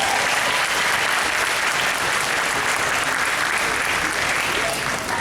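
A Comic Con crowd at a Smallville reunion panel in San Antonio bursts into loud, continuous applause, thick and unbroken for the whole stretch, filling the hall at close range.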